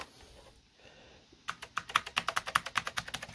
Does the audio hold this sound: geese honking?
no